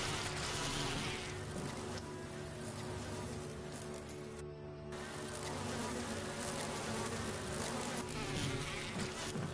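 Swarming bees in the Resident Evil HD remake drone in a dense, steady buzz that fills the whole stretch, loud and close with a slightly wavering pitch and no voices over it.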